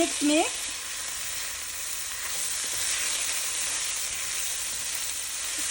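Vegetables for arroz con pollo fry with a steady, close sizzle in a pan, broken by a few scraping stirs near the start and then hissing on evenly with no talking.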